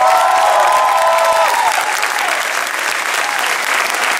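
A live audience at a Christian concert in Chile bursts into loud, sustained applause with some cheering, a dense clapping wash that holds steady throughout.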